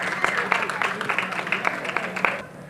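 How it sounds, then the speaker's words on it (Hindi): An audience applauds to welcome Dr. Chaya Shakre to the stage, dense scattered claps rising and falling under a voice speaking over them, then tapering off near the end. "तालियों की गूंज सुननी चाहिए"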